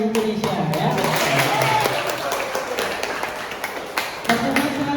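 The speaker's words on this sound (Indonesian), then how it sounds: "Kita aplaus dulu sekali lagi untuk praktek yang ada di Indonesia ya" Audience clapping at a university lecture in Indonesia, a dense continuous patter of many hands filling the room, with a voice talking over it near the start and end.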